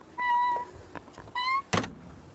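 An old door at the disused GWR Mells Road railway station creaks open with two drawn-out, high-pitched hinge squeals, then lands a sharp knock. It is close and clear, with no talking.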